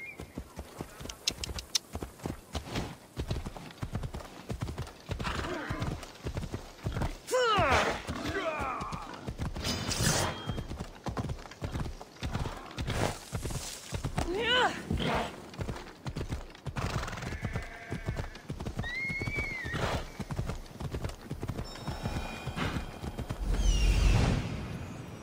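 A horse gallops in Assassin's Creed Odyssey with rapid, rhythmic clip-clop hoofbeats that run nearly the whole way, broken by several whinnies and neighs, with some game sounds layered in.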